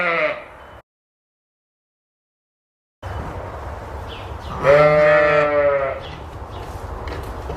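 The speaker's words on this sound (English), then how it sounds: "We have all these ewes in here together that's had their lambs since Friday evening" Sheep and newborn lambs bleat in a barn: a short bleat at the start, a silent gap, then a loud, drawn-out wavering bleat close by over a low barn hum, with fainter calls around it.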